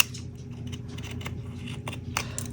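Scissors trimming the edge of a cast resin lipstick case, a run of small crisp snips repeating close up over a low steady hum, with no voices.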